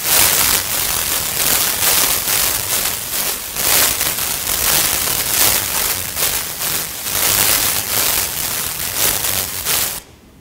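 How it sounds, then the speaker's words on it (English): White noise swells and fades in amplitude over time, a loud broadband hiss pulsing in uneven waves for about ten seconds before cutting off abruptly. "White noise, again, amplitude modulated over time."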